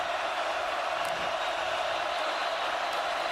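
A sellout stadium crowd of more than 83,000 at an Auburn vs Oklahoma college football game makes a dense, steady roar that stays loud and unbroken the whole time.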